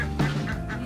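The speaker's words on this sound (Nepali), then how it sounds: "हाँस पनि रहेछ डक पनि रहेछ" Ducks and geese on a small farm kept alongside quail, pigeons and local chickens, giving a few close, loud honking quacks in short bursts over steady background noise.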